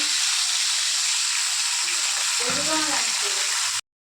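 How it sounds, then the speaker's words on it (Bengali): Loud, steady sizzling of fish frying in hot oil fills the whole clip, with a faint voice briefly underneath before it cuts off. "তেল গরম হয়ে গেছে, এক এক করে মাছগুলো ছাড়বো।"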